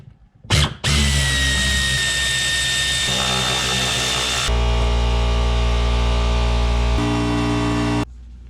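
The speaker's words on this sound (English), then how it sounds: "get yourself a 7/16 socket" Power tool with a 7/16 socket removing bolts on a Ford Foxbody during a torque box reinforcement install, a loud close whine that spins up sharply, runs steadily, then shifts to a deeper drone before stopping.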